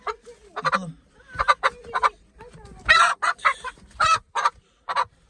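Broody hen clucking close by in a mini zoo pen, a run of repeated clucks and squawking calls in uneven bursts, fairly loud and clear.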